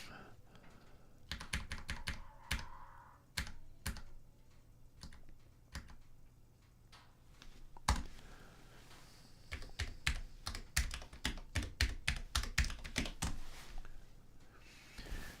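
A commit message typed on a computer keyboard: clusters of crisp, close keystrokes, a short pause, then a faster run of taps that builds toward the end.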